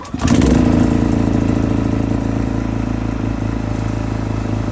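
A small portable generator engine, unused for a few months, sputters to life and settles into a steady, loud running drone that continues without a break.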